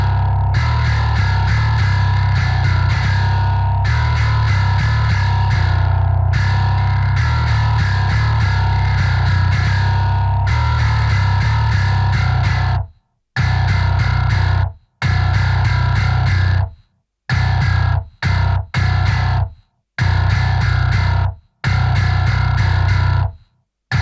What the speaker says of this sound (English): Now let's get into the bass tone isolated to see what that sounds like.